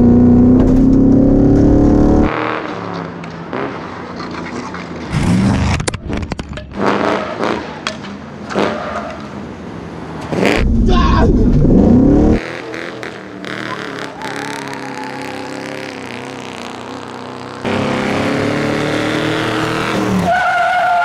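A pickup truck races on an ice cream oil slick, its engine revving loudly with repeated tire squeals and skids, a few thuds and bursts of engine noise, and people talking in between.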